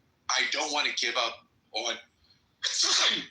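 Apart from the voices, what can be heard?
sneeze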